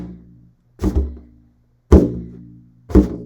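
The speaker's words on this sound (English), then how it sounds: "if you rotate downward, then you're going to get a scrape sound like this." Hand dragged downward across the skin of a frame drum, producing three separate scraping thumps, each a short dull attack with a brief rasping tail, close and fairly loud with pauses between.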